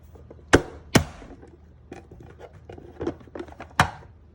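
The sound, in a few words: chopping jalapeños with a knife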